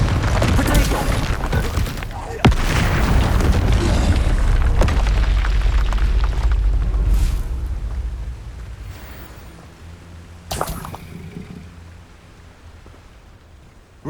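Confringo fire spell blasts in the Hogwarts Legacy video game, a heavy booming burst early on, a loud crack near two and a half seconds and a later hit near ten seconds, over rumbling game noise that fades toward the end.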